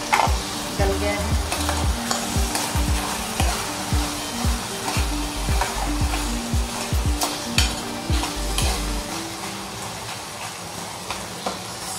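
Tomatoes cooking down in a pan for paneer bhurji, a low steady sizzle under repeated knocking and scraping of a spoon against the pan, no voices.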